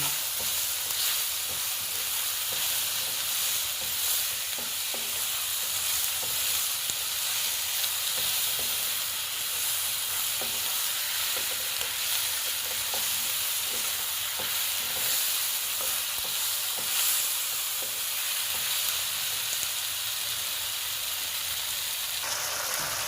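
Potatoes stirred and fried in a pan with dried Bombay duck (loitta), a steady close sizzle with soft scraping stirs running throughout.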